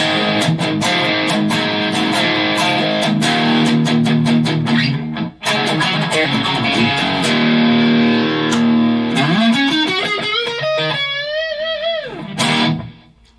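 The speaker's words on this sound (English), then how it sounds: "And then lead distortion, I suppose." Heavily distorted electric guitar lead through the Enya Nova Go Sonic's lead distortion preset, loud and sustained, with riffs, bends and a squealing high note near the end.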